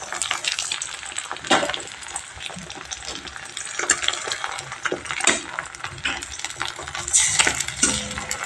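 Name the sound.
beaten egg frying in oil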